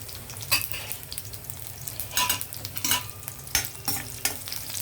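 Cumin and mustard seeds crackle in hot oil for a ridge gourd fry, with a steady close sizzle broken by sharp, irregular popping bursts and a few faint utensil touches.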